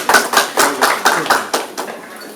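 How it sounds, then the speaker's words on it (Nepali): Hands clap in a quick, even rhythm at a silver jubilee celebration, close and fairly loud, tapering off after about two seconds. "सविता अधिकारी जोरदार तालीले सम्मान गर्नु।"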